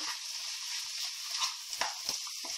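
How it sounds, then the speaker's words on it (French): Meat sizzles in its own fat with curry, ginger and garlic, a soft, steady frying hiss broken by several light stirring scrapes and taps, with no talking. "on va utiliser, on va dire, le gras de la viande pour pouvoir faire revenir donc la viande"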